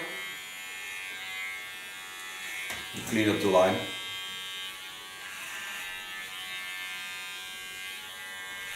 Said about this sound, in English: Put in my comb, take my Keone clipper,